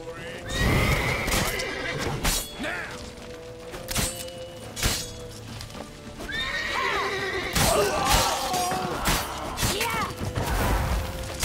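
A horse in the video game Witcher 3 gives several loud, shrill whinnies amid clattering hooves and crashing action, with occasional shouted game dialogue mixed in.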